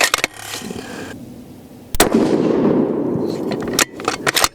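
Loud, close 7mm PRC rifle shots firing handloaded rounds at a target outdoors, three sharp cracks spaced a couple of seconds apart, each followed by a rolling echo decaying across the range.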